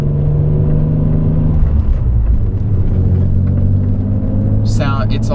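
A Nissan 300ZX runs after a misfire fix, its engine giving a steady, deep, close rumble that shifts slightly in tone, with a short higher-pitched sound near the end.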